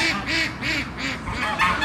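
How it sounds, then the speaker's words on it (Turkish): Ducks on a farm clamoring for feed at an opened coop, a close, steady run of repeated loud quacks overlapping one another. "Ördekler deli gibi yem istiyorlar"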